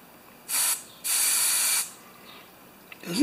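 Two sharp hissing sprays from an aerosol can of carburetor cleaner on a surging Honda EU3000is generator, a short burst followed by a longer one, close and loud against a quiet background.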